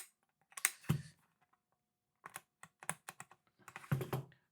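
Keys pressed on a LEGO KBDCraft kit keyboard fitted with grey switches, giving close, crisp clacks in two quick bursts separated by a pause, some keys sounding slightly clicky.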